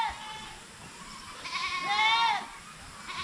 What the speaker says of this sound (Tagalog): Yung mga kambing natin dito, mga upgraded na yung matira dito.